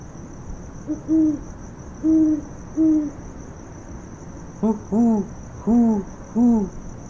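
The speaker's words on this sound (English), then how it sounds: "They're registering as higher pitch than the great horned owl." A series of deep great horned owl hoots: three spaced single notes, then a quicker run of four, over a steady high insect drone.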